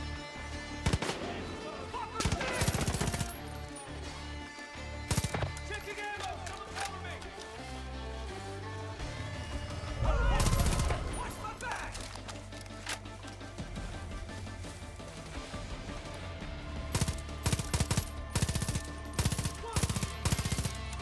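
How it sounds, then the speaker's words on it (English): Gunfire in a multiplayer shooter game played on a Linux PC, with rapid bursts of automatic shots and single cracks arriving in clusters, mixed with game sounds while people talk over it. "Dude, these guys have guns?"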